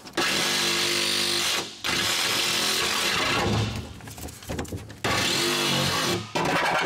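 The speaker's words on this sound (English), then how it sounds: "So now we can grab our jigsaw." A jigsaw cuts a shifter slot through a car's sheet-metal floor during an LS swap, buzzing loud and close in three long bursts with brief pauses between them.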